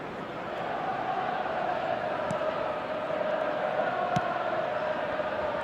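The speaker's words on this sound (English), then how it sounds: "a lot of applause for the thought" Stadium crowd at a Chelsea versus Tottenham Hotspur football match, a steady broad roar of applause and murmur held throughout, with a couple of brief sharp knocks standing out.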